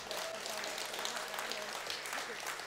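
A crowd at a religious gathering in Seljord, Norway, applauds in a steady wash of clapping, with faint voices mixed into the noise.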